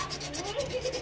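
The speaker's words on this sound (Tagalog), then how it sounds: "So kukuha lang tayo ng liha para malinisan kagad natin bago tayo magputol." Sandpaper rubs the copper capillary tube of a Eurotek double-door refrigerator to clean it before cutting and soldering, giving quick, close scratchy strokes in an irregular rhythm.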